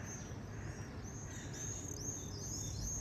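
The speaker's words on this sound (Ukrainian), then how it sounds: "Ви тільки послухайте, як співає Соловейку." A nightingale sings bright, warbling phrases repeatedly over a steady low background rumble, the song fairly clear but not close.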